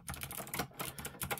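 Fingers tap rapidly on an 8BitDo C64-style mechanical keyboard, a quick, close, uneven clatter of keystrokes with no voices.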